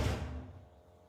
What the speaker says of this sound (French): ferme la porte, frérot.